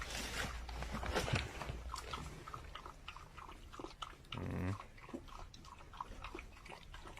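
Hungry puppies being fed by Ukrainian soldiers in a house make soft chewing, biting and crunching sounds up close, faint and intermittent, with occasional rustling and no clear talk.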